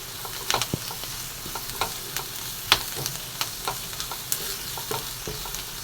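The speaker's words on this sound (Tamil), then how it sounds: "சுக்காவுக்கு தேவையான அஞ்சு காஞ்ச மிளகா அதையும் போட்டுக்குருவோம் போட்டு இப்போ நல்லா ஃப்ரை பண்ணிக்கிறோம்" Dried red chilies and curry leaves fry in hot oil for an intestine chukka, giving a steady low crackle with sharp sizzling pops and the scrape of stirring spaced every second or so, close by, with no talk.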